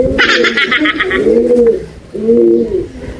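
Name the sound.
breeder pigeons cooing in a loft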